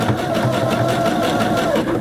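Sewing machine running continuously at a steady, rapid stitching rhythm while zigzagging off the end of a quilt, close and fairly loud with no pauses.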